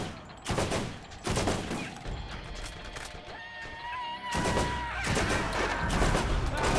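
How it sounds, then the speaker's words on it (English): A sniper rifle fires in Borderlands, the sharp shots loud and spaced apart, with a few closer cracks that ring out over a constant game background, and no talk. "Wow, this new sniper rifle is so much better."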